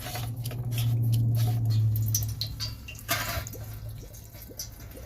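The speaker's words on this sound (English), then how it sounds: "Oh, of course, it's dripping everywhere." Irregular patter of water drips and splashes from a Maytag front-load washing machine after a drain pump replacement, close by, over a low steady hum, with a louder splash midway.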